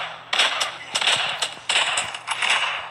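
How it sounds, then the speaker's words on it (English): A gold shotgun fires in Fortnite, about four sharp, loud blasts spaced roughly evenly, each with a short noisy tail and reload clatter between them. "Bro, I'm telling you, this shotgun is too good."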